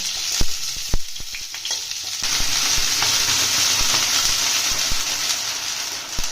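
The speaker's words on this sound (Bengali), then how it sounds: "আমগুলো দিয়ে দেবো, আমগুলো একটু নেড়ে নেবো।" Mango pieces frying in hot oil with panch phoron, dried red chilli and bay leaf, a loud steady sizzle with sharp spatula clacks against the pan, heard up close with no speech.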